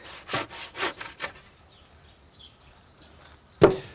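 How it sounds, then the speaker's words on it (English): A hand saw cuts through a timber retaining board to leave it flush with a post, giving three close rhythmic strokes at the start, then a quiet pause before a sharp knock near the end. "I'm just chopping this retaining board off in situ"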